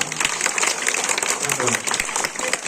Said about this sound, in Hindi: एक बार हमारे कलाकारों के लिए जोरदार तालियां